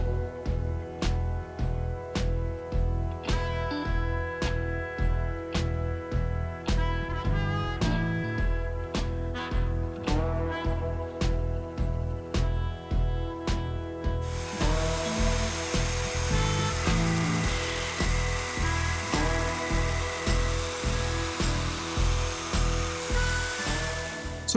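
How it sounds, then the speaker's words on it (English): A drill bores pivot holes in a titanium knife blade, a steady motor whine pulsing in regular cycles for the full stretch, turning harsher and noisier partway through, close and moderately loud, with no talk. "first thing I'm going to do is get the pivots drilled and get this channel cut for my stop pin."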